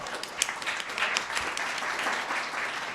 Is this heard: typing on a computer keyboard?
no